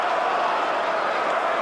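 Cruzeiro football supporters at Morumbi stadium during the Copa do Brasil 2000 final, a steady dense crowd roar with distant cheering holding at an even level throughout, no individual voices standing out.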